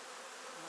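A dense, steady buzz of honeybees swarms close by while honey supers are taken off a hive, continuous and loud with no talk.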